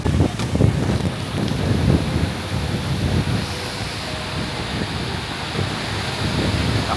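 Strong gusting wind buffets the microphone, with a low roar of surf or water underneath; no voices.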